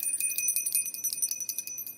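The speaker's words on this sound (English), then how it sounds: "then we ring the bell" A small bell rings repeatedly in quick, bright strikes with a sustained high shimmer, close and clear in a quiet room, no speech.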